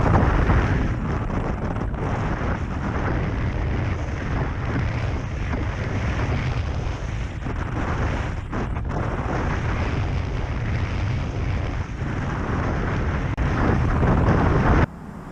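Wind roars over the microphone while riding a Cannondale Synapse road bike, a loud, constant low rumble with gusty buffeting that persists for the whole stretch and drops off abruptly at the end.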